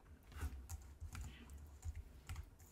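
Computer keyboard typing in short bursts of clicks and keystrokes, fairly close and quiet, during setup of an Arch-based Linux install, with no talking.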